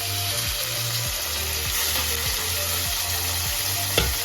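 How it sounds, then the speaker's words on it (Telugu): Onions, green chillies, tomato and mint fry in a pan for mint chutney, a steady close sizzle with a few soft stirring scrapes and a brief clink near the end. "ఇప్పుడు టమాటా వేస్తున్నాను."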